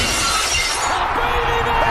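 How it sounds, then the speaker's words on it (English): Glass shatters in a loud, dense crash that fills the space, with the bright spray of breaking shards thinning toward the end, no speech. "Somebody smashed that stupid glass."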